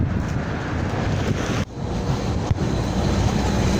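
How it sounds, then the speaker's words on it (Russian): Cold, icy wind blows steadily past a person walking outdoors in spring, a continuous loud rushing roar that buffets the microphone, with two brief dips in the gusting. "Короче, ветер ледяной."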